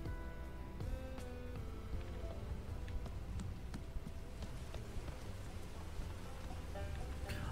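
Steady rain patters continuously in the video game Bugsnax over a dense, noisy backdrop, with scattered drops and faint tonal music-like layers throughout.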